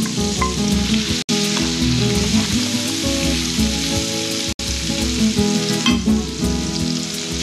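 Onion frying in a pan for stuffed fish, with a loud, dense, steady sizzle and crackle up close and brief stirring sounds, two short gaps, no talking.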